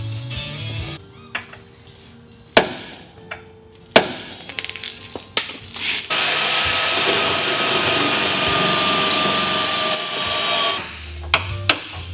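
Spot welds being drilled out of an F250 truck cab corner near the rocker panel: sharp metallic hits and short bursts, then a sustained loud drill whine for about four seconds, followed by a few more clanks.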